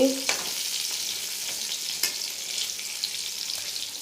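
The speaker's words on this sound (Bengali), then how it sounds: "পটল ভাজছে" Pointed gourd (potol) sliced and frying in a pan in a home kitchen, giving a steady, close crackling sizzle with a few sharp stirring clicks and no voices.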